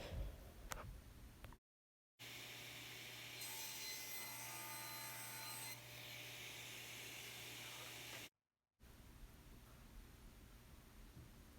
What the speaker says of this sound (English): I'm ripping this piece of MDF into 2 pieces that are 3 1/4 inches wide.